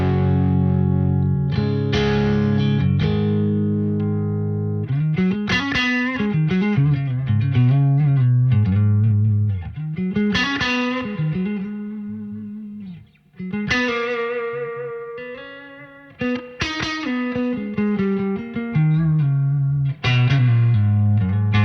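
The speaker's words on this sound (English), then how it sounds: "really sounds like a spring reverb." Electric guitar through a Soldano SLO 100 amp emulation on a crunchy setting with UAFX Golden Reverberator spring reverb, playing loud, slightly distorted chords and melodic lines with a lingering, wet reverb tail.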